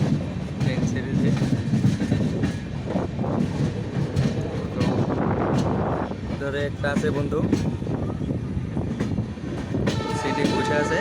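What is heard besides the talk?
passenger train moving, Assam to Tamil Nadu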